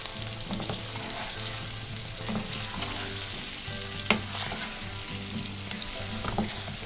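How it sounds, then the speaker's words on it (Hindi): Diced potatoes with salt and turmeric fry in a pan with a steady, even sizzle. Soft clinks and scrapes of stirring come through at intervals, with one sharper knock near the middle and no voices. "अब हम आलूओं को थोड़ा सा फ्राई करें।"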